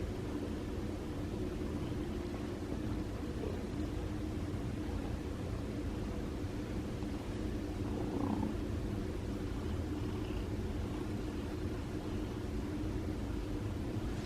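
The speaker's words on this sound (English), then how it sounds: "He's purring loud." A steady, low rumbling purr from a recovering feral cat, continuous and close, with no other sounds standing out.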